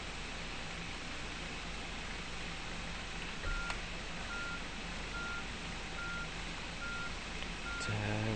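A street cleaning truck in the video game Street Cleaning Simulator reverses with a regular series of electronic warning beeps over a steady broadband engine and road hiss, with no talk.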